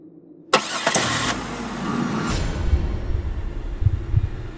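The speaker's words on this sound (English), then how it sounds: "But that's when the car suddenly started." A car engine suddenly cranks and catches after silence, then settles into a steady idling rumble, loud and close, with no voices over it.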